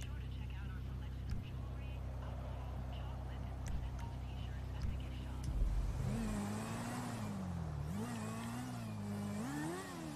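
A stolen car's engine in GTA V, steady running that rises and falls in pitch as the car revs and accelerates in the second half, heard under loud ongoing talk.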